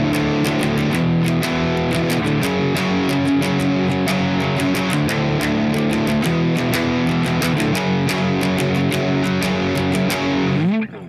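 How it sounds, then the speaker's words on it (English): Distorted electric guitar chords from the last chorus of a song, strummed openly so each chord rings and sustains in a dense, continuous wall of sound, loud and close, with no talking. "instead of palm muting, we're gonna let things ring out, so it'll sound like this."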